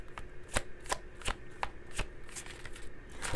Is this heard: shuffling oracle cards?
yes